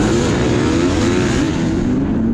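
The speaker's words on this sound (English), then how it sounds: "I'm back on my 2020 Beta 300RR two-stroke." A 2020 Beta 300RR two-stroke dirt bike roars loud and close at the start of a GNCC cross-country race, a continuous high-revving engine drone with other bikes blending into it.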